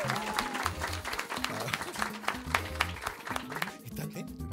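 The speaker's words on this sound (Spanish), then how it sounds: "Un aplauso para ustedes mientras leo" Audience applause at a stand-up comedy show: a crowd claps in a moderately loud, uneven burst while someone talks intermittently over it, the clapping thinning toward the end.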